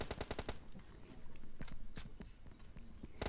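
Automatic gunfire in PUBG Mobile opens with a quick rapid burst of shots, followed by scattered single cracks and a final short burst, all fairly faint.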